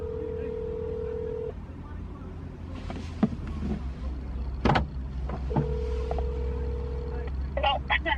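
A phone call rings out on the line: two long, steady ringback tones separated by a pause, heard faintly over low background rumble with a few clicks and rustles.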